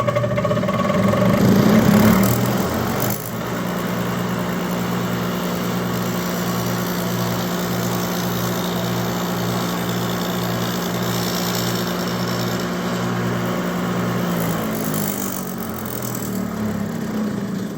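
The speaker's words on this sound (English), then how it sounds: "Let's go see how that dado blade works." A saw fitted with a dado blade cuts wood for a beehive bottom board: a loud motor whine spins up, then drops into a steady, droning tonal hum for about twelve seconds before winding down, with no talking.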